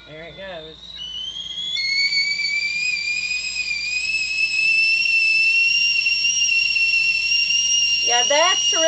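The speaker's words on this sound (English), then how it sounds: "Let's hear that whistle." A 2.7 quart stainless steel Belanko whistling teapot lets out a loud, steady shrill whistle that starts after a brief voice and holds for several seconds, with a person speaking briefly again near the end.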